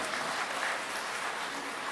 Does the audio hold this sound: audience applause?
yes